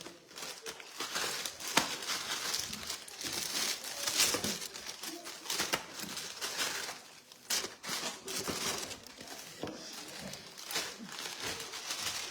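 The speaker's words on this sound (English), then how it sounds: "you just put them in a Ziploc bag" Crackers tumble into a gallon-size plastic Ziploc bag, with steady crinkling and rustling of the plastic over many seconds, close by and continuous with brief sharper crackles.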